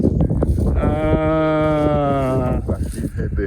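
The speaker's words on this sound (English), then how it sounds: "It's a young cow." A young cow on a Jamaican farm lets out one long, loud, close moo that holds steady for over a second before trailing off, with outdoor background noise around it.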